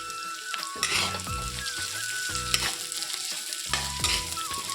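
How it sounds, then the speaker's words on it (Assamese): Crushed ginger and garlic fry in a pan with a steady, close sizzle, broken by a few louder scraping stirs and soft clatters, with no voices. "এইখিনি অকণমান ৰঙচুৱাকৈ ভাজি ল'ম"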